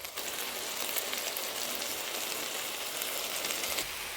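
Eggs cooking in a covered pan on a home stove, a continuous soft hiss and crackle held steady throughout, with no voices.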